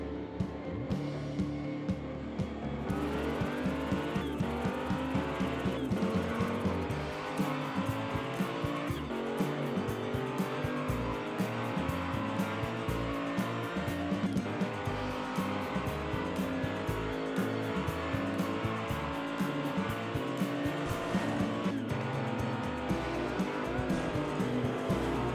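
Hot Wheels toy cars, including a Javelin and a pink WRX STI treasure hunt car, race down a track in a continuous rolling, whirring rush, with music underneath and no talking.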